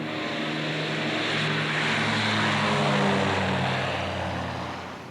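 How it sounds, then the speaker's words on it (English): A de Havilland DH-104 Dove with supercharged Gipsy Queen engines drones steadily at an airshow, its propeller roar loud and even and swelling slightly before easing off, with no voices. "De Havilland's first post-war civil design was the DH-104 Devon in the military version and the Dove in its civil guise"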